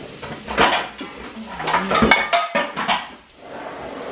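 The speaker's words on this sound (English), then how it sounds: "we're going to grab another frying pan" Metal cookware clanks and scrapes as a frying pan is handled while cooking pork chops, several knocks and clatters close by with no one speaking.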